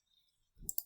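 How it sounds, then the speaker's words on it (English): A computer mouse double click: two quick, faint, crisp clicks in close succession after near silence. "So again, we are going to double click"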